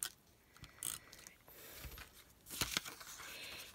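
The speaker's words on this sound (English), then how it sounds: "I'm going to run my snail on here" Snail adhesive tape runner rolled across a handmade Christmas card, faint ratcheting clicks and soft tape peeling in short bursts, quiet and close.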